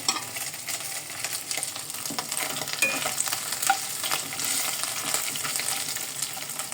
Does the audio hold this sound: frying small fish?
yes